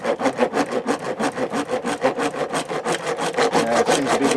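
Hand back saw cutting through Veranda vinyl railing, a steady rhythmic rasp of quick back-and-forth strokes, close and loud throughout.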